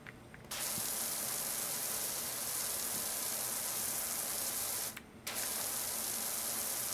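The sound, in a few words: pressure washer spraying grass, PowerWash Simulator video game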